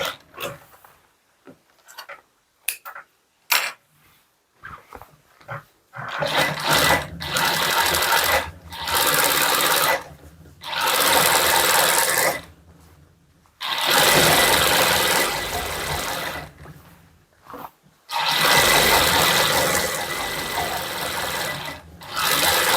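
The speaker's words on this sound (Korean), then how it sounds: "2cm 넓이로 스티치 한 번 더 해주겠습니다" Sewing machine stitching a seam on a hooded trench coat, starting with short stop-start bursts and then settling into long steady runs of loud rapid whirring, separated by brief pauses.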